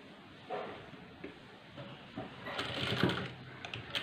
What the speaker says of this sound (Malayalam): ഒരു കാലിഞ്ചിലാണ് ഞാൻ തയ്ക്കുന്നത്